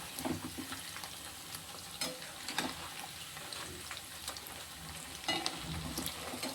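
Taro pieces frying in a pan keep up a soft, steady sizzle, broken by scraping clatters of a spoon as the pieces are turned, close and fairly quiet.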